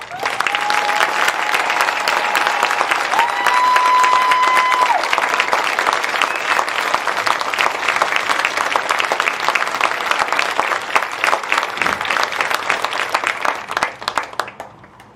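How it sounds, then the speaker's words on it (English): At a high school graduation ceremony, the audience gives sustained applause for students joining the military, dense clapping that holds steady for most of the stretch before tapering off, with a brief tone heard early on. "Could those students please rise for a very well-deserved round of applause?"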